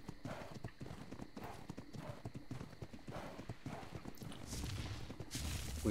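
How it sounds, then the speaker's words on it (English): Horse hooves clip-clop at a steady walking pace in a video game, the even hoofbeats continuing throughout and growing slightly busier and louder toward the end. "I'm going to take my horse to enjoy the sunrise."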